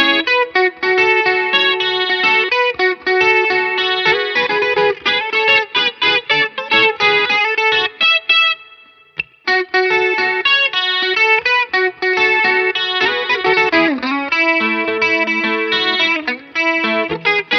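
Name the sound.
electric guitar riff with CE1 chorus effect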